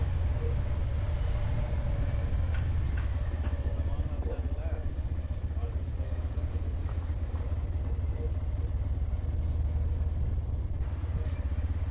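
A motorcycle rides an off-road forest track near Vattavada, by Munnar, giving a constant low engine rumble mixed with wind buffeting that holds steady throughout.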